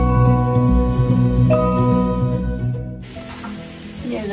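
Onion and broccoli go into hot oil in a pan, and a loud, hissing sizzle starts suddenly partway through after a stretch of steady tonal background music.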